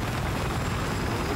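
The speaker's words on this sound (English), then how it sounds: "Okay, I'm gonna go spawn in the chopper" A helicopter in the Battlefield 4 game, on the Siege of Shanghai map, gives a constant whirring rotor and engine rumble, moderately loud and with no voices.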